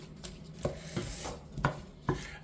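Broken-up cheap tinned tomatoes are mixed into a Durban curry pot, a spoon knocking and scraping in four or five soft, evenly spaced strokes, close and unaccompanied by talk.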